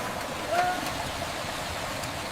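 Water from a repaired farm irrigation pump pours out in a steady, continuous rushing stream, fairly faint and unbroken throughout.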